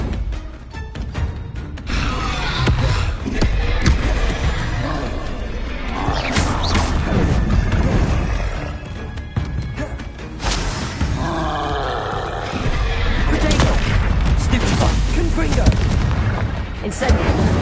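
Explosive Confringo spell blasts in Hogwarts Legacy combat, loud booming bursts and crashes within a dense, continuous battle din, with grunts and voices mixed in.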